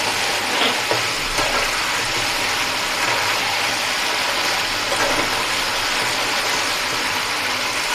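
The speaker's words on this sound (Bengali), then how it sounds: "চিকেনটাকে ভালো করে কষিয়ে নেব।" Chicken being sautéed and stirred in a pan for a homestyle curry, giving a steady, loud, close sizzling and frying hiss that runs unbroken the whole time, with no one talking.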